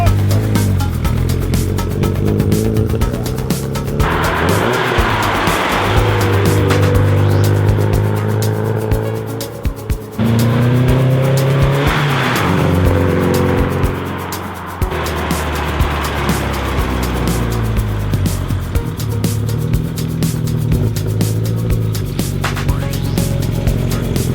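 A VW Scirocco with Bosch K-Jetronic fuel injection is driven, its engine revving up and easing off in repeated surges with road noise and brief lulls.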